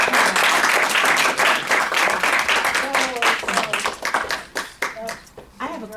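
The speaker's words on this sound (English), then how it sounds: "So give her another huge round of applause" Seminar audience at a real estate investing event breaks into applause, dense clapping filling the room loudly before thinning out toward the end, with voices mixed in.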